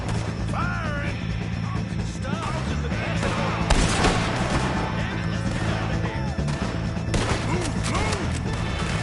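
Loud, chaotic gunfire in the video game Red Dead Redemption 2, with repeated shots, crashes and impacts over a busy battle bed, and shouting voices mixed in.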